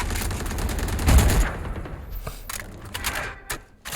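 Sharp gunshots in a Valorant esports match, a dense burst of rapid fire followed by scattered single cracks and thuds.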